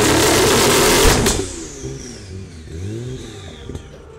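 Nissan GT-R AMS Alpha 12 with a 1400-horsepower engine, built by Chicago firm AMS, blasts a loud roaring rev, then settles into a lower rising-and-falling engine note, heard alone.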